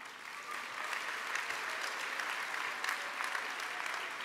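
Convention audience applauding, a dense steady wash of many hands clapping at moderate distance, sustained without pause, with no talk over it.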